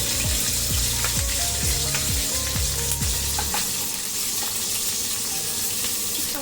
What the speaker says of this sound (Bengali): এবারে ক্যাপসিকাম গুলো দিয়ে দিচ্ছি, এগুলো হালকা করে একটু ভেজে নেবো।